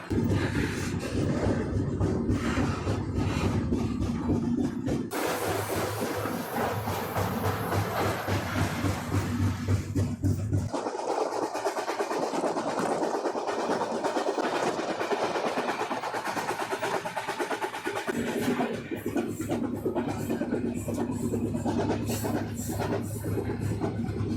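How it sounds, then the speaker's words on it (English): A train runs on the Canadian National Main Line near Jackson, Mississippi, with a continuous loud rumble, wheel clatter and hiss that shift in tone as it rolls on. "Finally, the train started making progress."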